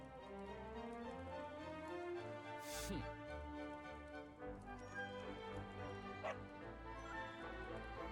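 A dog in the video game Dragon Quest XI S barks and whimpers in quick yips over a busy game soundtrack, with a brief sharp whine in the middle and another bark near the end.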